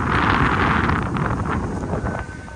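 Strong wind gusts across a beach, a loud, rushing roar that buffets the microphone throughout, easing slightly toward the end.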